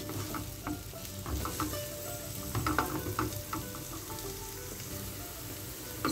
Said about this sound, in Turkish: Kapya biberimizi de soğanımızla beraber yaklaşık 3-4 dakika kadar kavuruyoruz.